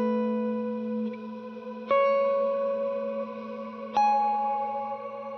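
Guitar notes ring out through a modulated legacy reverb on a Line 6 Helix or HX Stomp, with three struck chords or notes, each swelling into a long shimmering, wavering tail that slowly decays, heard alone.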